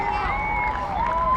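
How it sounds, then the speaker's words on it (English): Crowd of around 100 school kids jumping and screaming at a cricket match, high shrill cheering heard at a distance under a commentator's voice. "100 school kids over there all jumping and screaming."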